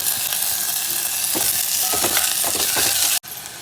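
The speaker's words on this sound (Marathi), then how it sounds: "कांदा टॅमॅटो भाजून घ्यायचा टॅमॅटो टाकते" Onion and tomato fry in a pan with curry leaves, a loud, constant sizzle with stirring scrapes running beneath it and a brief sudden drop in sound just before the end.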